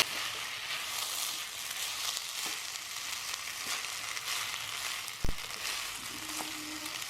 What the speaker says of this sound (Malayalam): ഇനി നമുക്ക് നന്നായിട്ട് ഹൈ ഫ്ലെയിമിലിട്ട് ഈ അരി ഒന്ന് റോസ്റ്റ് ചെയ്തെടുക്കാം